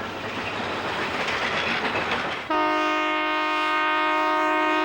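An Algoma Central snow train runs on rails through a snowy winter landscape, a loud broadband rumble and rattle of cars giving way halfway through to a sustained, steady multi-tone horn blast close by.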